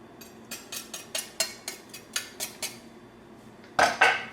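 A handheld garlic press squeezes garlic cloves for beef bulgogi: a steady run of about ten crisp metallic clicks and squeaks, close and fairly quiet, ending in two louder crunching presses, with no talking.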